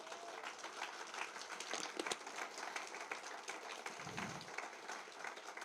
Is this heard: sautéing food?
no